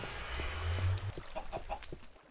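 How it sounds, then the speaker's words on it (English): Chickens cluck in a chicken trap inside a video game, a low murmuring burble followed by a series of short, separate clucks that fade toward the end, heard alone at modest volume. "Chicken trap."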